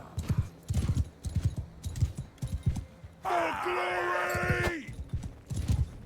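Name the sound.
horse hoofbeats while riding in video game Mount & Blade II: Bannerlord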